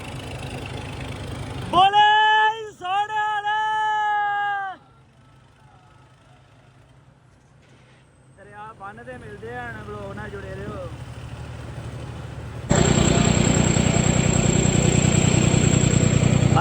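A tractor engine runs steadily on a river embankment during flood relief soil work at Harike, a low idling drone beneath tonal calls and chatter, then swelling into a loud, rough roar near the end.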